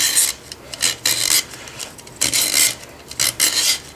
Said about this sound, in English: You can hear the knife working in there.